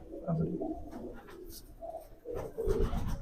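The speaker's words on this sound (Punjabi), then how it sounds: "ਇਹ ਧੰਨੇ ਵਾਲੇ ਕਬੂਤਰਾਂ ਚੋਂ ਆ" Domestic pigeons kept for flying competitions coo in a soft, rolling series, close by and moderately loud, with low murmuring calls repeating over a few seconds.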